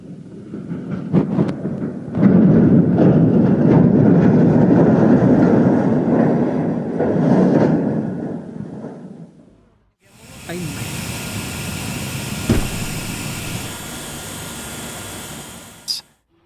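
A 235-ton portal crane collapses with a long, heavy roaring rumble and grinding, then cuts to a harsher hissing roar with a single sharp bang near the end.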